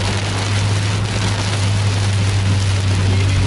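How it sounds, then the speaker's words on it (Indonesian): Heavy rain pours down in a dense, steady hiss around a sleeper bus on the road, loud and continuous, with a low constant engine hum running beneath it. "Cukup deras hujannya, luar biasa derasnya."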